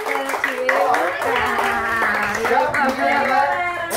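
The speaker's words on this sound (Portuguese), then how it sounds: "Uma salva de palmas" A group claps their hands at a children's capoeira school event, steady moderate applause lasting a few seconds beneath a voice speaking over it.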